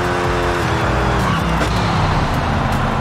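A Koenigsegg Jesko in Forza Horizon 5 accelerates at full throttle, its engine roaring loud and close with rising tone and a brief tire squeal over a dense driving rumble.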